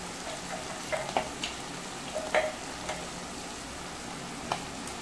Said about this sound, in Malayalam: ഇനി നന്നായിട്ട് ഒന്ന് ഇളക്കുക